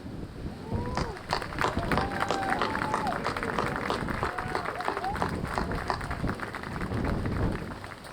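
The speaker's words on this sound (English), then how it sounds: "please stand so we can applaud you" Crowd applauding MLK Commission members at an MLK Jr. wreath-laying ceremony, steady dense clapping throughout with a few voices and outdoor wind noise mixed in.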